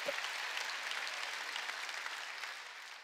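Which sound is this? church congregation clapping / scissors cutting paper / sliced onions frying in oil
church congregation clapping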